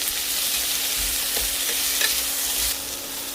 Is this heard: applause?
no